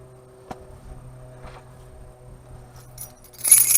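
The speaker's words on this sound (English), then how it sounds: "Keys." Keys jangle as they are picked up near a 1978 Toyota with a 20R engine, a bright metallic rattle that builds at the end after a few faint clicks over a low steady hum.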